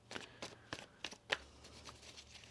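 A deck of tarot cards being shuffled, giving several quick riffling bursts spaced irregularly with gaps between them, soft and close, with no talking.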